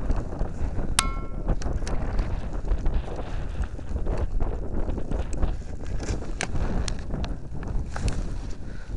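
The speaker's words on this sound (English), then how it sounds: "when the wind blows, it all blows on us" Strong wind gusting through a snowstorm in Glen Ellyn, Illinois, roaring and buffeting the microphone in a steady, loud rush, with faint clatter mixed in and no talk.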